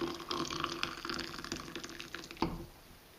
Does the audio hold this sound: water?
yes